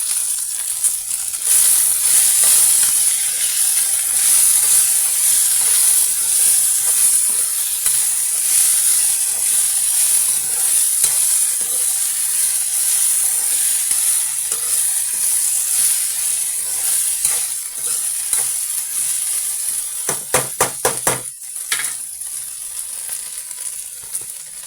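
Okra fries in a pan with a loud, steady sizzle and hiss that lasts the whole time. A few stirring clatters come near the end, and nobody speaks.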